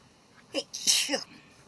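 One person sneezes once, close and loud, with a short breathy intake just before the burst.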